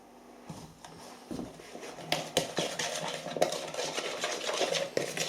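Custard powder is stirred into a little full fat milk with a spoon clinking against the container, scraping and tapping in quick irregular bursts, close and fairly quiet.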